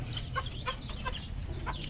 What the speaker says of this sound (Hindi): मुर्गी जो मेरी है ये कड़ुक हो गई थी